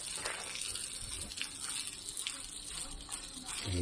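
Water from a hose spraying steadily onto patio bricks being wetted before masonry work, a continuous close gushing hiss that runs throughout.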